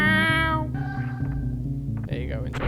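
A person's voice imitates a cat with a drawn-out, close, fairly loud meow, followed by a second, shorter meow-like vocal sound.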